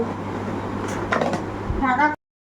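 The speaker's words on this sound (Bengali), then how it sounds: "কৌটো ঢাকনা আটকে দাও" The lid of a household container is pressed shut in a kitchen, giving a few quick clicks and knocks close by while faint voices sound in the background.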